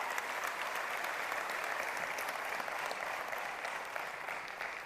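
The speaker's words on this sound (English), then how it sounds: "that deserves a huge round of applause for the entire product team and for all of you fans" Sustained audience applause at the OnePlus 6 launch event, a dense, even wash of clapping from a large crowd that holds steady for about five seconds before easing slightly.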